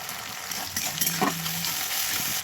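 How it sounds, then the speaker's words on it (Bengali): Tomato being fried in a pan for chicken curry, a continuous hiss of sizzling oil with a few stirring knocks and scrapes, close up and without speech. "টমেটোটা ভাজবো ভালো করে দিয়ে"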